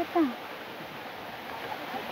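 A strong stream of water flows steadily as a continuous broadband rush, with a brief voice at the start and the water carrying on alone afterward.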